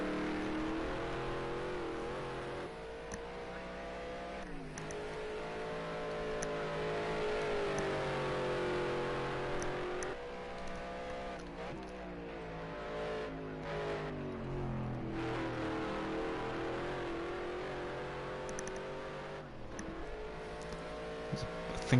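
Race car engine revving and shifting through a lap at Road America, a sustained loud roar with rising and falling pitch sweeps under commentary talk.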